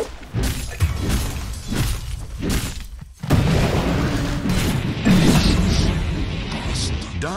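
A tower under attack in the video game Dota 2: repeated heavy impacts and crashing bursts in loud succession, then a dense stretch of battle clatter and booms.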